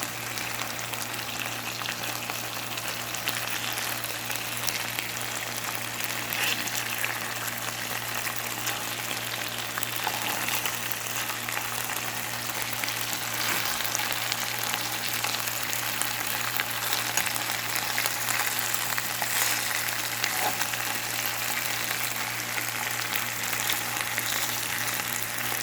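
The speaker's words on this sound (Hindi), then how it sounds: "ये दूसरे फ्राइंग पैन में मैंने थोड़ा लहसुन अदरक पेस्ट नीचे ऑयल में डाल के और फिर मैंने ऊपर फिश जो है वो यहाँ पे फ्राई" Fish frying in oil over garlic ginger paste in a frying pan, a steady close crackling sizzle with faint popping that holds evenly throughout, no voices.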